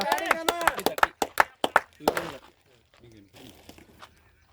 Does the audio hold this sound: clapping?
yes